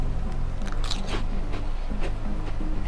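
Herr's cheese curls bitten and crunched close to the mouth, a run of crisp snapping crunches and chewing at a steady pace with no talking.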